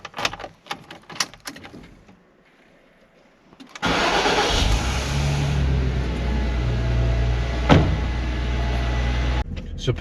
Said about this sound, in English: I'm going to move the cars out of here, move them to the other car park